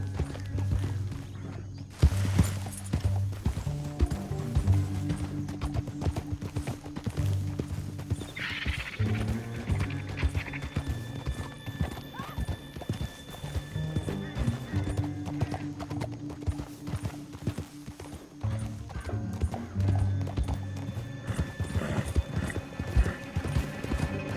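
Steady clip-clop of horse hooves moving at a brisk pace, with an occasional whinny, layered under game music and ambient noise in Red Dead Redemption 2.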